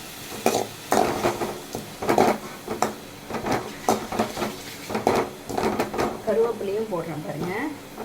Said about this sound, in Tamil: இந்த பச்சை மிளகா, இந்த நெல்லிக்காய் போட்டு நல்லா ஒரு 5 நிமிஷம் கைவிடாமல் வதக்கணும்